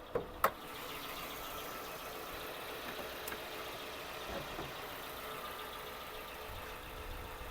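A Hyundai Tucson 2.0 engine idles with a steady, even hum throughout, and a couple of sharp clicks come near the start.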